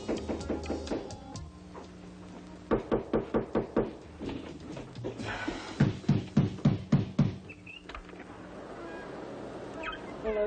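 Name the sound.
knocking at the door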